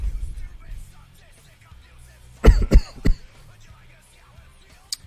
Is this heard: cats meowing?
no